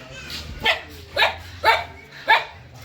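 A dog in Varanasi gives four sharp, evenly spaced barks, fairly close and loud, over a quiet low background.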